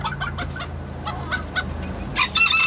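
Bantam hens clucking in short, repeated bursts at close range, with sharper calls and a brief cackle toward the end over a low background hum.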